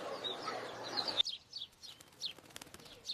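Small colourful sparrows and parrots in a zoo bird house, a burst of dense chirping and chatter that drops off, then scattered bright tweets and short calls, fairly close.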